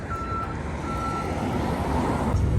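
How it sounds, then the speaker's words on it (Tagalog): A long city bus in Canada sounds its reversing beeps twice at moderate distance over a steady low rumble of street traffic, with no talking. "Yan naman yung bus, mga kadats ko"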